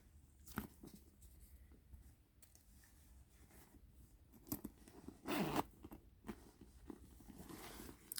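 A zipper on the back of a Coach handbag rasps open in a short burst, close and fairly quiet, among soft handling rustles and small taps before and after.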